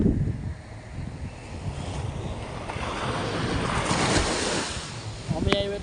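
Sea waves roll in at Chowpatty beach, a broad, steady surf wash with wind buffeting the microphone, swelling slightly toward the end.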